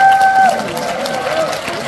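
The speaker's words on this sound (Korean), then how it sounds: "그런 의미에서 같이 박수 한번 쳐보실까요?" An audience at a New Year concert in the large conference hall of the National Assembly members' building claps in a loud, dense, sustained patter, with crowd voices mixed in.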